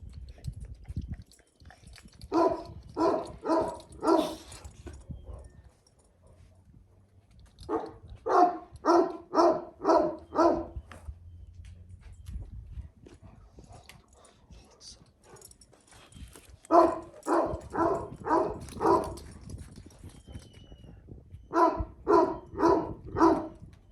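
A dog barks in quick bursts of four or five sharp yaps, repeating several times with pauses between, close and loud.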